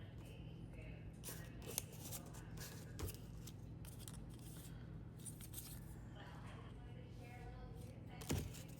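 Scissors trim paper in faint, close snips, a series of short crisp cuts spaced irregularly over a quiet room hum.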